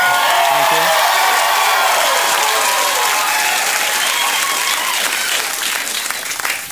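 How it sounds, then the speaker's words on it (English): Studio audience applause on a late-night talk show, a loud, steady wash of clapping that holds for several seconds before tapering slightly at the end. "Thank you, applause sign."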